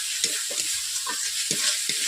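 Cauliflower and egg curry masala stirred in a pan after water is added, soft sizzling with a handful of distinct spoon scrapes at irregular intervals, close and alone.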